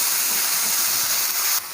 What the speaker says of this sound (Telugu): ఈ పేస్ట్ని వేసుకొని ఫ్రై చేసుకోవాలి.